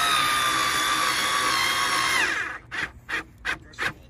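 A Black+Decker 4V cordless screwdriver with a magnetic slip chuck whines steadily as it drives a screw, then stops and gives about four separate ratcheting clicks as it is turned snug by hand.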